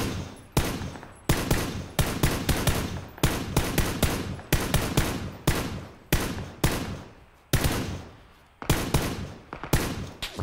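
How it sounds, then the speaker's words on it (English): Automatic gunfire in the battle-royale video game PUBG on Xbox rings out in repeated loud, close bursts of rapid shots, each burst cutting off sharply before the next, continuing throughout. "Shit, I'm getting shot at from like six directions."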